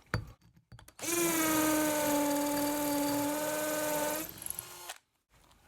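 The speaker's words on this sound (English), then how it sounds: "That just drilled right on down through that." A KIMO 20V cordless hammer drill boring through a brick runs at a steady high-pitched whine for about four seconds, loud and close, then winds down and stops.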